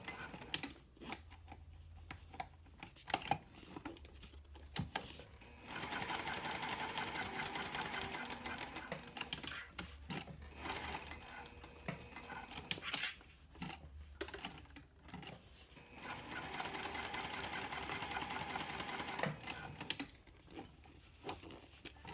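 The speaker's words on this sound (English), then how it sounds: "I'm gonna top stitch around this entire rectangle here to secure the coin pouch panels" A sewing machine top-stitches a cork clutch wallet in rapid, buzzing bursts, with pauses between runs and soft handling noises, close and fairly quiet.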